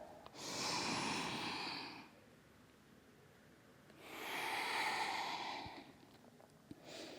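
Two slow, deep breaths during a hip-opening vinyasa yoga flow, each a long airy inhale or exhale lasting about two seconds, close and soft, separated by quiet pauses, with no talking.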